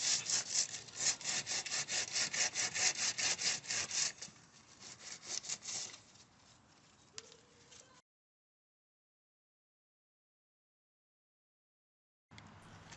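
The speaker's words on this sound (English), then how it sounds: "Use a flexible rubber block with 40 grit sandpaper to sand down any high points" A rubber block wrapped in 40 grit sandpaper scrapes over body filler on a Nissan Altima in fast, rhythmic back-and-forth strokes, slowing and fading before a long silence.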